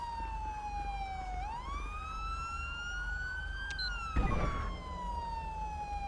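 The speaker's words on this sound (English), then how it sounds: "I'm gonna turn this obnoxious siren off." A police car siren in GTA V wails steadily, sweeping slowly up and down in pitch with a brief burst of noise partway through.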